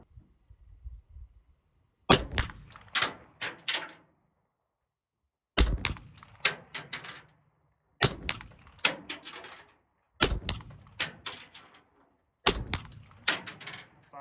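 A Glock 40 10mm pistol fitted with a brace fires five quick strings of loud, sharp shots, each followed by a short echo and then silence.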